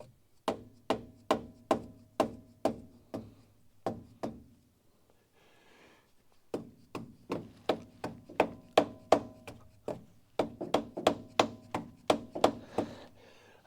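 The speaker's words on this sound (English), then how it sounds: "I'm kind of coming down in favor of the rubber mallet." In a garage, a rubber mallet thumps in quick, even runs of dull knocks, about two per second. The first run gives way to a short pause filled with faint shuffling, and then a louder, denser series of blows follows.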